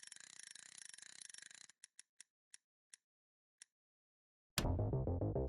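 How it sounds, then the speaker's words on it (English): A prize wheel spins with rapid ratchet clicking that slows into a few widely spaced single ticks, then stops, followed by a burst of music. "I'm going to spin the wheel"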